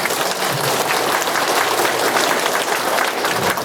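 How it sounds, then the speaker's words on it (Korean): A seated audience at a local council housing briefing applauds council member Kim Woong, a dense, steady wash of many hands clapping loudly for nearly four seconds without a break. "격려의 박수 김웅 의원님한테 한 번만 더 부탁드리겠습니다"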